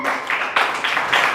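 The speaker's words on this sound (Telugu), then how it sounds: "ఒకసారి చప్పట్లు కొట్టండి" A church congregation claps hands together, a short burst of rhythmic group clapping in a few pulses, close and fairly loud.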